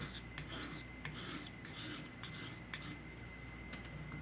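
A knife blade is drawn across the fine side of a sharpening stone, producing faint, quick rasping strokes that repeat in a steady back-and-forth rhythm, close and quiet.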